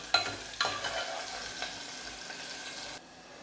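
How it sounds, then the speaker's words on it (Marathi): Sliced onions stirred and fried in a pan for mutton biryani, a few sharp scraping spoon strokes over a soft steady sizzle that fades away, close and quiet with no talk. "हलक्या हाताने आता कांदा हा असा परतवून घेऊया, जास्त करपवायचं नाही"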